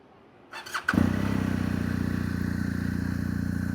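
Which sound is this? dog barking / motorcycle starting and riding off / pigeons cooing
motorcycle starting and riding off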